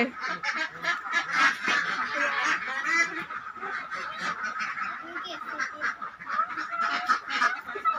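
Many ducks quacking together in a dense, continuous chorus, loud and close, with overlapping calls and no pauses, on an egg-laying duck farm.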